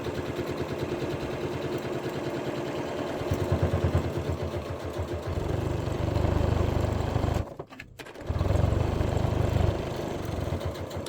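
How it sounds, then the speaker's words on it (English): A sewing machine stitching down the sides of a coral beach bag, its steady rapid whirring chatter running close by, briefly stopping and then starting up again. "now we're going to sew down the sides of our bag."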